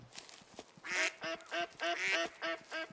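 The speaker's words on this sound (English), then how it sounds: "Yeah, I hear you, Duck." Repeated quacking from waterfowl in the hunting game Way of the Hunter, set on Alaska's Aurora Shores: a few faint calls, then roughly seven strong, rhythmic quacks close at hand, heard alone.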